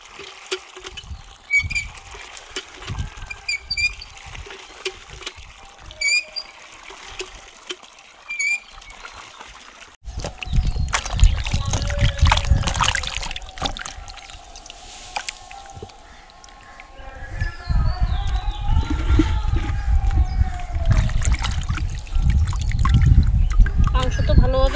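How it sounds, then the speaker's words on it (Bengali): Mutton pieces being rinsed by hand in water in a home kitchen, with trickling and sloshing that grows louder and busier in the second half, alongside bird chirps early on and people talking. "মাংস তো ভালোভাবে ধোয়া হয়ে গেছে।"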